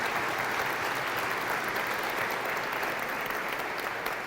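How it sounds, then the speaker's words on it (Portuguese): A church congregation gives the missionaries a dense, even round of applause, many hands clapping at once from a middle distance at constant loudness throughout. "Você pode aplaudir esses missionários?"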